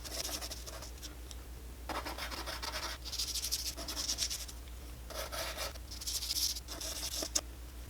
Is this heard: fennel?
no